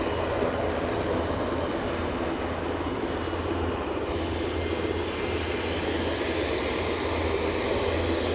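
Beechcraft King Air 200 turboprop at Aberdeen heliport, a steady, fairly loud engine drone with a low throb running evenly throughout, no voices.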